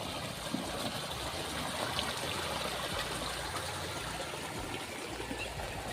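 Water running down a roadside gutter that carries a stream from the hills toward a river after heavy rain, a steady, even rush and trickle that fills the whole stretch without pause, close by and moderately loud with no voices.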